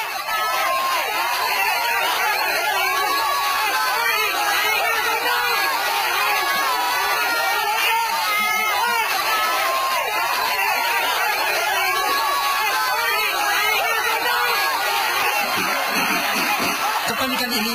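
A panicking football crowd crushed in the stands, a dense continuous roar of many voices and shouting, loud and unbroken throughout with no single voice standing out.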